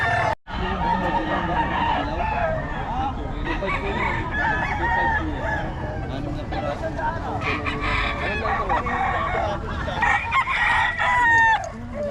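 Several roosters crow over continuous clucking from a crowded flock of chickens for sale in Bocaue, Philippines, with faint voices mixed into the noisy, close background.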